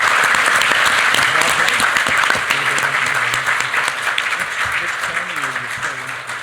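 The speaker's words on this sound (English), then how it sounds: "round of applause for our first panelist." Audience applause for a panelist at a panel discussion, a sustained wash of many hands clapping that fills the room, loud at first and slowly thinning out, with some voices murmuring underneath.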